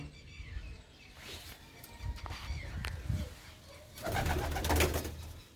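Pigeons coo close by in soft, repeated throaty rolls, joined by brief bird chirps and a louder burst of cooing near the end, with faint background noise.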